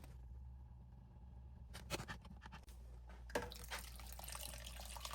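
Water from a tap runs steadily into a pot after a short quiet start, with a brief clunk partway through as the flow continues.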